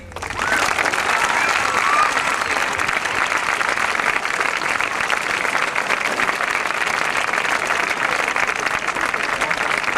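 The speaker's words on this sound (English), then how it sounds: "Would you please hold your applause till the subject area is over?" Loud, sustained applause from a school ceremony audience, a dense steady wash of many hands clapping for about ten seconds with crowd murmur mixed in.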